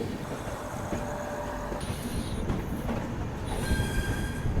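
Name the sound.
train arriving at Ludhiana station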